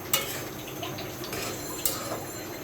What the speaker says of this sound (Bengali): একটু নাড়াচাড়া করে দেখি।